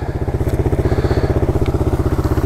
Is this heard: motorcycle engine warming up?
yes